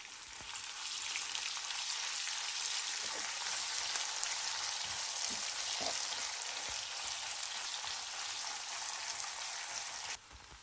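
Chopped red onion frying in oil and ghee gives a steady, soft sizzling crackle with occasional small pops, fairly quiet and close, cutting off near the end.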